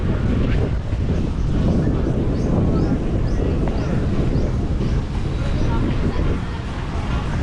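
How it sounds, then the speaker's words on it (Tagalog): Strong wind on a Boracay beach roars steadily across the microphone in a broad, continuous rush, with faint surf-like noise underneath and no pauses throughout. "Ang lakas ng hangin na rito."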